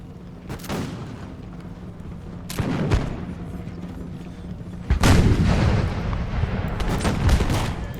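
Video game battle with a regiment of muskets and artillery firing, loud bursts of volley fire and cannon booms coming in waves, the heaviest barrage swelling near the end.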